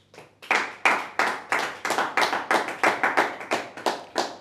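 A congregation claps in a steady rhythm at a church service, about a dozen sharp, close, loud claps in quick succession with no talk over them.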